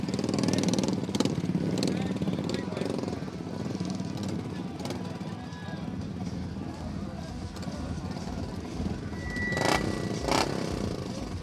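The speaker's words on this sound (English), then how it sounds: "More bikes are coming here." Royal Enfield 350cc motorcycles race in the novice category on a track in Goa, a steady engine drone with passing surges heard through clear talk.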